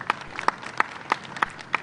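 Applause welcoming a guest at a conference of cobblers in Madhya Pradesh, with a thin scattering of claps and a few sharp, evenly spaced claps ringing out close by.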